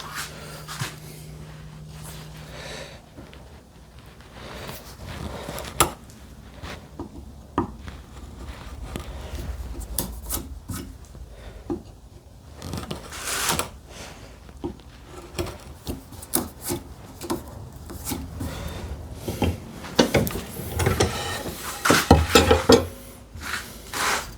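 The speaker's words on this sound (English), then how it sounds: "I could go with a 1/2 inch chisel" A 1/2 inch chisel works wood by hand at a vise, giving quiet scraping and rubbing strokes with scattered sharp taps and paring sounds, close by, irregular and fairly soft, growing busier toward the end.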